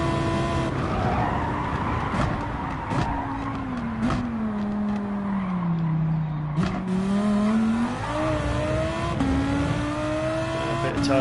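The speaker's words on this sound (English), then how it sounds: "A bit of tyre spinning on there on the curb." Lamborghini race car in Gran Turismo 7 spinning its tyres on a curb, a steady engine drone with rising and falling pitch and sharp skidding tyre noise layered over it, loud and close with no talk.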